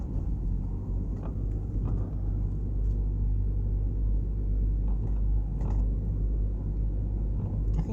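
A car driving up Millsborough Avenue in Kingston, Jamaica, giving a steady low road rumble and engine drone from inside the vehicle, with a few faint bumps and clicks along the way.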